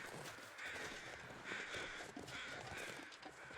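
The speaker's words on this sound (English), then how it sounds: "I hear the birds." Crows cawing in The Long Dark video game, repeated harsh caws over a steady wind-like ambient background, moderately distant.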